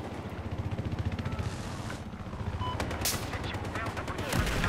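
Dense, rapid automatic gunfire rattles through a Battlefield 4 firefight, bursts overlapping with distant shots and explosions while someone talks over the chaos.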